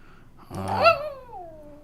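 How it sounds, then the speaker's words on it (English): A dog gives a single bark that trails into a whimpering tail, fairly close and alone, with no talk over it. "There's a dog bark"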